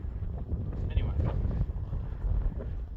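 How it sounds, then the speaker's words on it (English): Low, gusty wind rumble buffets a phone microphone continuously on a badlands trail, with faint voices partly buried beneath the blustery noise. "it's getting windy, so hopefully you can hear me"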